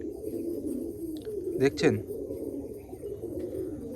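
Restless pigeons held for sale near Baruipur coo in a low steady murmur, with a brief fluttering scuffle in the middle and someone talking over them.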